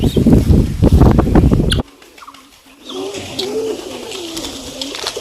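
Pigeons being fed puffed rice at a shrine coo softly and repeatedly at close range after a brief burst of loud rustling and clatter, with no voices over the calls.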